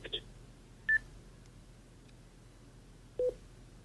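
A quiet room where a few isolated, brief DTMF keypad tone beeps from an Icom IC-705 radio in terminal mode, unable to reach its server, sound at separate moments, each short and clean against faint background hiss.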